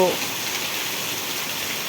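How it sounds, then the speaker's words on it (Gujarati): Very heavy rain pours down in a dense, unbroken hiss that stays loud and steady from start to finish, at night with lightning, in Vejalka village, Botad district, Gujarat. "તમે જોઈ શકો છો અતિ ભારે વરસાદ પડી રહ્યો છે।"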